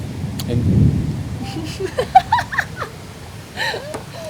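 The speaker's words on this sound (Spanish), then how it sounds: "confiando en que eso fue un trueno aislado" A single low rumble of thunder rolls through early on and fades within about a second, leaving a quiet outdoor background with a few faint chirps.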